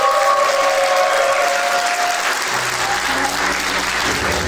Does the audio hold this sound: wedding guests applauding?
yes